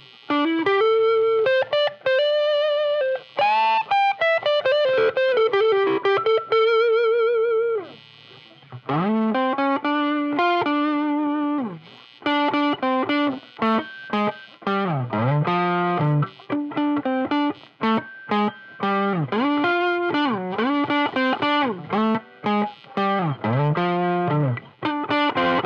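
Electric guitar on the neck pickup, played through a Wampler Germanium Tumnus overdrive pedal, rings out in smooth, sustaining overdriven notes and chords. Phrases run with brief pauses and a lead-like tone throughout.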